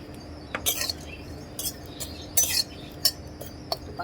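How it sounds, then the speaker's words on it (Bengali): Dried fish being stir-fried in a pan, a metal spoon scraping and clinking against the pan in irregular bursts, close and fairly quiet. "শুটকিটা ভালো করে টাইলা নিব"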